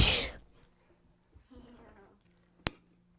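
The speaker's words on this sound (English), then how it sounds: "Hang on, I gotta sneeze." A single loud sneeze bursts out at the start, followed by quiet breathing, a faint murmur and a sharp click.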